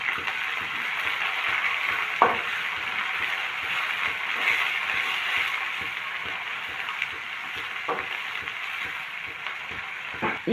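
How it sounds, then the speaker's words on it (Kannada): Green chillies fry in a pan with a soft, steady sizzle, broken by a few sharp clicks of stirring. "ಈಗ ಇದು ಸ್ವಲ್ಪ ಹಸಿಮೆಣಸಿನ್ಕಾಯಿ ಈ ಥರ ಫ್ರೈ ಆದಮೇಲೆ"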